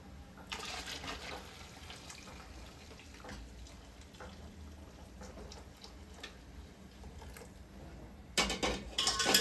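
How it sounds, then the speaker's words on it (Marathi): Hot water splashes and pours into a pot of cooking dal (amti), a continuous soft gurgling wash that swells into a louder, fuller pour near the end, with no talk. "गरम पाणी टाकणार आहे."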